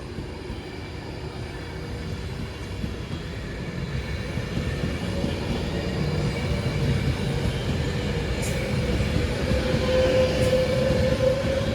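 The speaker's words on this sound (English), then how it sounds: "Right, off goes 390-112 for Manchester Piccadilly." Class 390 train 390-112 departs Stoke-on-Trent for Manchester Piccadilly, a rumbling rail roar that builds steadily as it gathers speed, with a rising electric whine and a couple of short high squeals.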